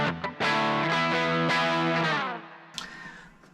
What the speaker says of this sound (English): Now with more distortion.